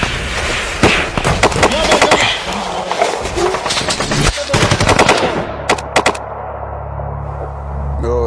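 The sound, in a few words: gunfire from an unseen enemy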